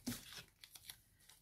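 Kraft paper tape being cut into strips, a sharp tearing rasp up front followed by several faint, quick crinkles and snips, close and quiet with no talk.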